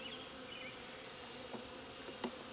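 Honey bees buzz around a hive's honey super in a busy bee yard, a continuous close drone with a couple of brief louder passes.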